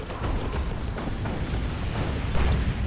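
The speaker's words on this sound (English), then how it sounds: "Down goes a grenade, tears up one squad pretty badly" A grenade goes off in a Dawn of War 2 multiplayer battle, a dense, loud, continuous rumble of blasts and battlefield noise with no single isolated boom.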